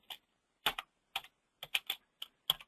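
Someone types on a computer keyboard in an office: a few short bursts of sharp, close keystrokes separated by quiet gaps.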